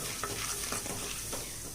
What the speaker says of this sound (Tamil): நல்லா வறுபடட்டும்.